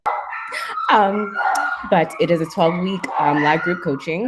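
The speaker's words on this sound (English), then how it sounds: "Sorry for the barking." A dog barks in the background while someone speaks, sharp yips and barks interleaved with her voice, fairly close and distinct.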